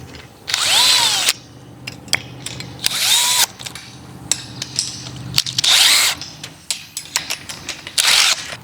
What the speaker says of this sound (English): Any day you get to solve gate problems with a power drill is a good day.